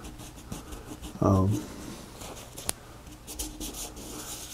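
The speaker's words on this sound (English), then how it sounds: "You can get it started and then peel it off with your fingers." Fingers rubbing dried masking fluid off watercolor paper make a brief, loud, close scrubbing rub, followed by light scratchy touches and faint handling noise.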